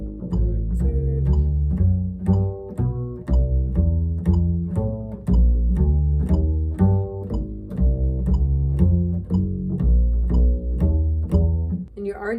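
Jazz bass line outlining roots and thirds through a cycle of fourths, steady evenly spaced plucked notes with a warm low tone, played alone and close.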